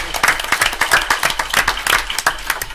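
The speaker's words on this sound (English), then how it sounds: "Y'all got to clap for" A crowd at a city council meeting claps in a quick, uneven patter of many hands, fairly close and loud, running steadily for a few seconds with no talk.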